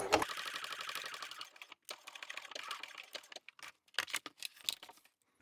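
A sewing machine stitches around the gusset of a fabric bag in fast rattling runs that pause and restart, reinforcing one spot, close and moderately quiet.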